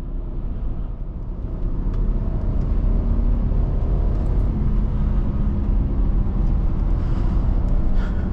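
Naturally aspirated inline-six engine of a BMW E90 sedan driving, a deep steady rumble that swells after the first second and holds loud and continuous from inside the cabin, with no talking.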